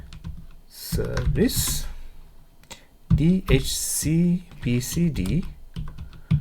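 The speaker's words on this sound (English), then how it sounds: "I'm going to type sudo" Computer keyboard keys clatter in quick bursts while commands are typed for a Raspberry Pi Pi-hole setup, the clicks running beneath a voice speaking throughout.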